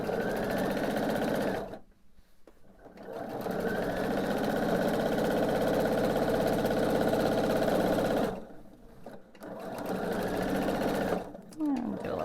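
A sewing machine stitches quilt binding with a back stitch, a steady loud motor whir broken by brief pauses, then running again in short bursts.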